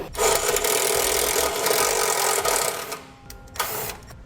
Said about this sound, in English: we'll drill out a pilot hole